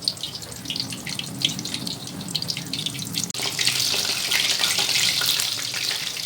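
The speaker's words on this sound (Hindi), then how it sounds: "मीडियम फ्लेम पर मछली को अच्छी तरह से फ्राई कर लेंगे" Fish fries on a medium flame in a pan, a steady close hiss and sputter throughout that swells louder and more crackling about halfway through.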